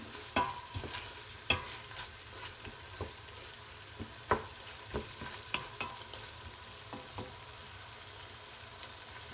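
Harira soup with spices, coriander and parsley simmers in a pot while a spoon stirs it, giving a soft bubbling hiss broken by a dozen or so light, scattered clinks and scrapes close by.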